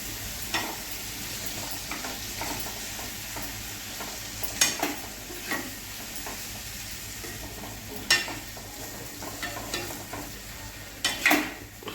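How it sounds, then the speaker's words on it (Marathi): Prawns sautéing in a pan for a Ratnagiri-style kolambi fry, with a continuous close sizzle broken by irregular sharp clinks and scrapes of a spatula stirring over about twelve seconds, no voices. "तर अशी आपण आता कोलबी टाकून घेतली आणि आता हे परतून घ्यायचं"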